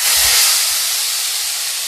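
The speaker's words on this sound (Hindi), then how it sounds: "जब ये अच्छी तरीके से क्रैकल हो जाए उसके बाद मैं डाल दूंगी जो मैंने अनियन को ग्रेट किया हुआ था" Grated onion hits hot oil with cumin seeds in a pan, giving a loud, steady hissing sizzle that eases off slightly as it settles, with no voices.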